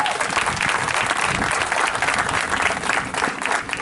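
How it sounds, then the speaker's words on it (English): Sustained, dense applause from a large audience at a high school graduation ceremony, steady and loud throughout without a break, honoring top-ranked graduating students. "Let's give these folks a big round of applause."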